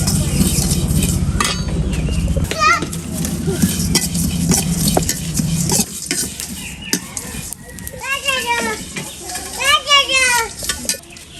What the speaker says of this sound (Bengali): জিরাগুলো একটু ভাজা হবে আজকে